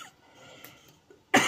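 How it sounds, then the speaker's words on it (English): A single sharp, loud cough bursts out near the end after a stretch of quiet room tone, close to the microphone. "I've got a bit of a cough at the moment."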